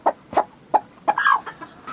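A broody hen of the Gurk breed gives a series of close, sharp clucks, four evenly spaced notes followed by a longer drawn-out call, loud and alone.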